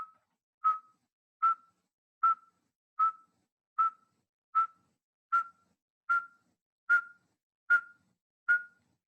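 A person whistles an imitation of the northern saw-whet owl's call: a run of about eleven evenly spaced, short, single-pitched toots at a steady tempo, clear and close, with silence between notes.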